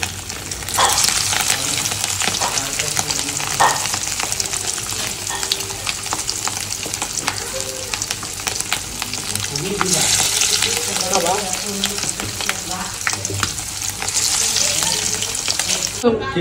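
Fish frying in a pan, a loud continuous close sizzle with occasional stirring scrapes throughout.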